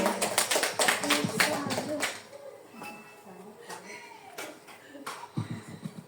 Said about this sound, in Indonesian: Tepuk tangan untuk Ibu Siane.